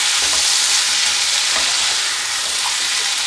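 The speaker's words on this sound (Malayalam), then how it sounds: "എല്ലാം കൂടെ നന്നായിട്ട് മിക്സാക്കി കൊടുക്കുക" Jackfruit seed stir fry seasoned with garam masala is stirred in a hot pan, making a loud, continuous sizzle with scraping strokes of the spoon throughout.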